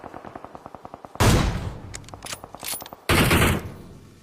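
Gunfire in a battle royale video game, including an AWM sniper rifle shot taken on the run: a rapid train of automatic bursts, then two loud, sharp blasts with ringing tails, close and with no talk.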